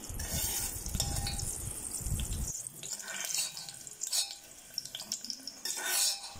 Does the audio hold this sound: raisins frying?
yes